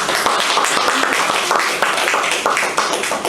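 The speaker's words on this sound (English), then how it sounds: "Richard does the goddamn clap" A room full of people clapping in a law school voir dire focus group, steady dense applause of many hands that carries on throughout.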